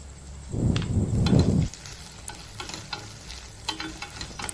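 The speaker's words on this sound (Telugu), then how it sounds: "అల్లం వెల్లుల్లి పేస్ట్ మొత్తం పోయే వరకు బాగా మిక్స్ చేసుకుందాం" Ginger garlic paste is stirred in a hot pan: a loud rough scraping burst early on, then a quieter sizzle with light intermittent clinks of the spoon.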